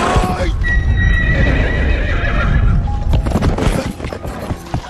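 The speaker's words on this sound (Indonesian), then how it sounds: "dia dengan senang hati menunggangi kuda ayahnya di padang" A horse lets out a loud, close whinny over rapid clip-clopping hooves as it is ridden across a meadow. A short burst of scuffling and clatter follows toward the end.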